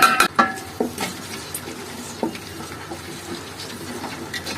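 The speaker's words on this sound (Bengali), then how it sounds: "সমস্ত উপকরণ একটু নেড়ে চেড়ে মিশিয়ে নিচ্ছি।" Mango pickle ingredients with dried chillies and whole garlic cloves are being stirred in hot mustard oil, giving a steady sizzle with scraping utensil knocks that are loudest at the start, close and without voices.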